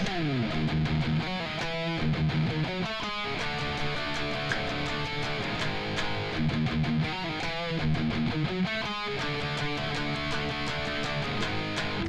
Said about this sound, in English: this kind of a cool laid back lick that's got a little legato phrase in it